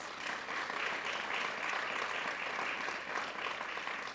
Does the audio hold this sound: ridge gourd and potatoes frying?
no